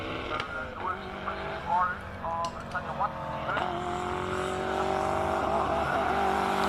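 A race car revving and accelerating at a hill climb event, its engine note rising through gears with brief tyre noise, while a commentator talks over it.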